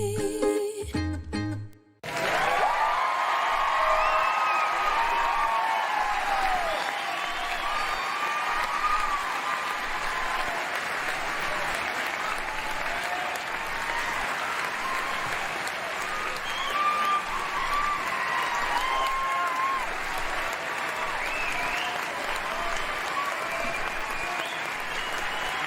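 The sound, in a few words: clapping applause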